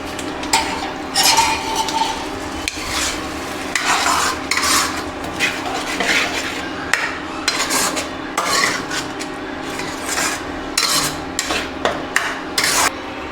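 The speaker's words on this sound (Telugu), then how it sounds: "ఇప్పుడు మసాలా అంతా బాగా ఫ్రై అయింది బాగా." Masala for a bachelor-style mutton curry being stirred in a pan, with a steady run of spatula scrapes and clinks against metal over a faint frying hiss, close and continuous with no talk.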